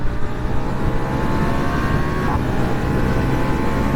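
Ducati Diavel V4 motorcycle pulling hard from a roll, its engine droning loud and steady with a rising tone through the gear, heard close up from the rider's position with constant wind roar.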